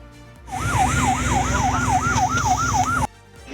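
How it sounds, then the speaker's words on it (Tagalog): A ship's siren sounds during a dangerous maneuver at sea, a loud, close, rising-and-falling wail that repeats in quick cycles for about two and a half seconds and then cuts off abruptly. "Hinarangan ng barko at ginamitan ng sirena."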